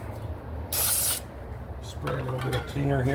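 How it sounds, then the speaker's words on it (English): A short hissing burst of cleaner sprayed onto a rag near the mic during a 2006 Chrysler 300 3.5 timing belt and water pump replacement, followed by faint rubbing and someone talking. "spray a little bit of cleaner here on this rag"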